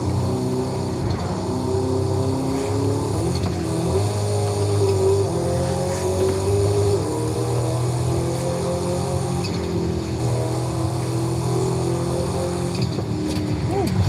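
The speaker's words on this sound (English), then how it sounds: "how much I hate this turbo noise on this truck" Steady, droning turbo engine note of a truck in Forza Horizon 5, a continuous loud hum with faint whining overtones that holds without break, with a voice speaking over it at times.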